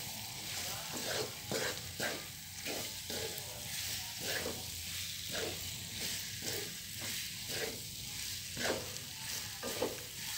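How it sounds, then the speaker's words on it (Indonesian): Repeated scraping and stirring strokes over a soft, constant sizzle as beef is stirred in a frying pan, the rhythm steady and unhurried with no talking. "kemudian kita aduk-aduk hingga bercampur dengan baik"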